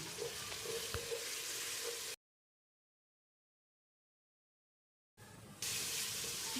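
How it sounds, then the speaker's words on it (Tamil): Ginger paste fries in a pan for a Muslim-style mutton biryani, a soft close sizzle and crackle that cuts out into complete silence for a few seconds before returning slightly louder. "இதில் இஞ்சி விழுதை சேர்த்து வதக்கிடலாம்"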